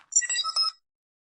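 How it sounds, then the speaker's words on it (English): A phone rings with a short burst of bright, warbling electronic tones lasting under a second, then silence, heard alone. "I got my phone going off on the other"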